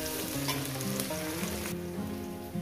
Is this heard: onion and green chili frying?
yes